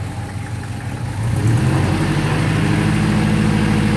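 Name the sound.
motorcycle engine idling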